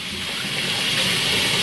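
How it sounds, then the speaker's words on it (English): Potato greens being washed under running water, with a continuous close rush and splash of water flowing over the leaves and no pauses. "I'm just washing the green. Washing it good."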